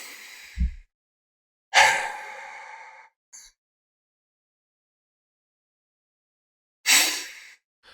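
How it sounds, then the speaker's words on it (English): A person breathes deliberately, pushing the air out of the lungs in long forceful exhales followed by sharp inhales, with long silent pauses between breaths. "you've completely pushed all the air out of your lungs and your body will almost just have this natural reflex to breathe in"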